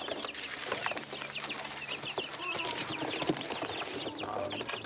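Young Satpuda gavran chicks in a cage, day eight, give a steady stream of overlapping high peeps and clucks close by, with faint farmyard bustle underneath and no talking.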